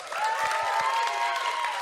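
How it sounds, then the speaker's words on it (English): A live comedy-show audience in San Francisco bursts into dense applause with cheering and whoops, a sustained roar of clapping from a large crowd. "could you please applaud if you are here of your own volition? Make some noise."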